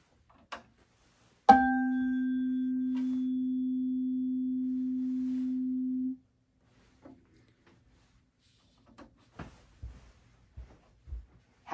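A single steady pure sine-wave tone sounds clearly for about four and a half seconds, then cuts off, followed by faint scattered clicks and taps.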